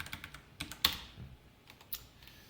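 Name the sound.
typing on a computer keyboard while coding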